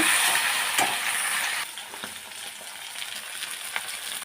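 Loud, steady sizzling of something frying in hot oil, with occasional stirring clinks and scrapes; the hiss eases partway through.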